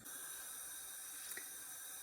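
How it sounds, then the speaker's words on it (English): Tap water running steadily into a kitchen sink during a home fabric dye session, a quiet continuous hiss and trickle with no talking. "the water was going straight into my sink"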